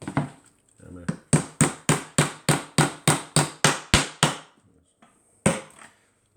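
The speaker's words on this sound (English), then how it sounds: "Hammer." A hammer drives a plastic screw into an IKEA Kallax drawer insert with about eleven rapid, evenly spaced sharp knocks, followed by a pause and one more blow, close and clear.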